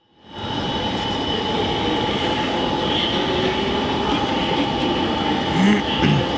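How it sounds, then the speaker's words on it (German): A train bound for Koblenz sits at the station with a loud, steady rumble and electric hum, and faint squeals rise briefly near the end. "wir sind jetzt hier vor dem Zug, der nach Koblenz fährt"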